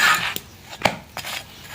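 A tawa griddle pan being wiped and scraped clean after frying parathas, with a few short metallic scrapes and clinks, close and distinct, separated by brief pauses.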